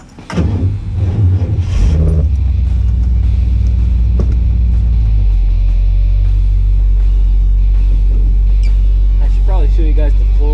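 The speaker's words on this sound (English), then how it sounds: "I thought I might take you guys on a little ride along as we drive back over to the garage" A 1969 Ford Mustang starts off and drives, its engine rumbling deep and loud from inside the car, settling into a steady low drone with a few faint bumps and rattles.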